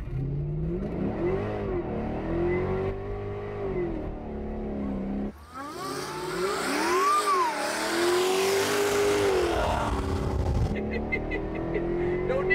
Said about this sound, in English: the headers just give it this really nice, deep, just throaty V8 exhaust sound